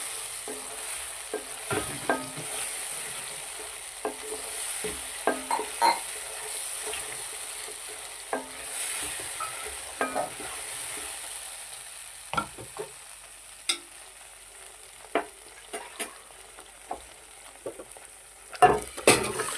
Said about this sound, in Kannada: ಮಸಾಲೆ ಚೆನ್ನಾಗಿ ಫ್ರೈ ಆಗ್ತಿದ್ರೆ ನನಗೆ ಟೇಸ್ಟ್ ಬರುತ್ತೆ